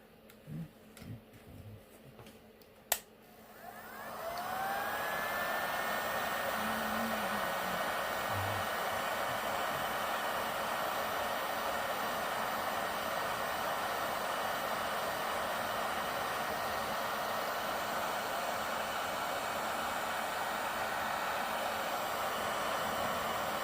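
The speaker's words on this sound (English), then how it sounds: "Did y'all know a hair dryer will take off stickers off your car?" A hair dryer blowing on the epoxy on the back of a resin project switches on after a few handling clicks and then roars as a steady, close, loud whoosh for the remaining twenty seconds.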